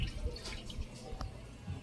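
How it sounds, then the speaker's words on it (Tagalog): Water trickles and drips into a basin being filled for washing clothes by hand, faint and intermittent splashes with soft background noise. "naglalagay naman ako ng tubig dito sa"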